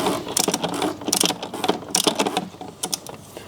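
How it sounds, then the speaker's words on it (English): A ratcheting torque wrench works on a fastener during a BMW 330e hybrid oil service, giving bursts of rapid close clicks in uneven strokes with short pauses between. "now I'm just going with a torque wrench because it's almost at the bottom"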